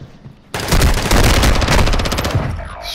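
Rapid automatic gunfire in Call of Duty: Modern Warfare II, a loud sustained burst of closely spaced shots that begins abruptly after a short quiet moment and continues to the end.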